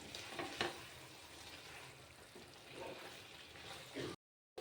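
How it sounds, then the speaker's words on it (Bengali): Soaked pointed gourd (potol) hits spice paste in a pan for a Bengali potol malaikari, giving a steady close sizzle and frying hiss with a few brief stirring bumps throughout. "এবার আমি ভিজে রাখা পটলটা দিয়ে দিচ্ছি আর একটু ভালোভাবে কষিয়ে নেব"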